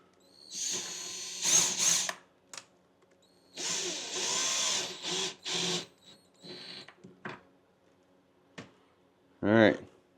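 A power drill working on Dodge Challenger headlight parts whirs in several short bursts of varying length separated by quiet gaps, close up and fairly loud.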